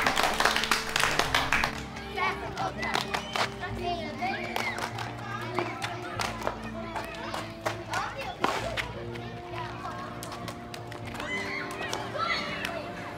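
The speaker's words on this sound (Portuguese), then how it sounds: "Aplauso para Sandli" Clapping for a child in a school setting: a burst of sharp hand claps at first that thins into scattered claps, mixed with children's chatter and voices talking over a steady background tone.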